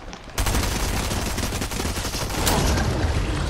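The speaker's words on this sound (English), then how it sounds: "Shooting near me, guys." Gunfire close to the player in a Fortnite trios match: a sudden burst of rapid, loud shots starting after a brief quiet moment, continuing as sustained automatic fire with dense overlapping cracks.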